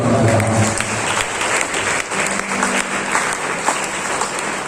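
Sustained applause from a church festival congregation welcoming Reverend Father Shyam, dense and loud crowd clapping that holds steady throughout.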